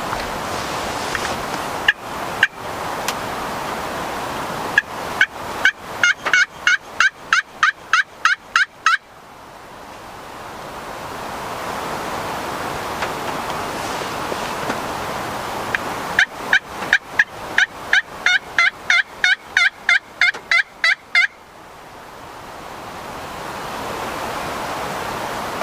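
Wild turkeys gobbling in response to a call during rain, with two bursts of rapid, loud gobbles standing out over a constant hiss of falling rain.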